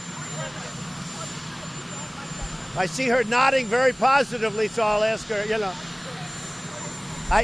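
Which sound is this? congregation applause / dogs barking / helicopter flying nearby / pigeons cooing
helicopter flying nearby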